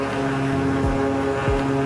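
Twin turboprop engines of a King Air 350 in X-Plane 12 give a steady droning hum with layered tones, and two quick downward pitch sweeps pass by under an even, continuous level.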